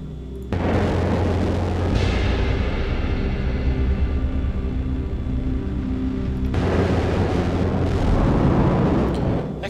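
Gas tanks exploding after being shot in the video game Children of the Sun, a loud, sustained roaring blast with a deep rumbling body that cuts off abruptly, then a second swell of roaring boom.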